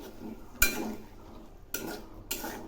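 Chickpeas and water stirred in a pan for chana ghugni, several sharp clanks and scrapes of a spoon against the metal over a low bubbling simmer.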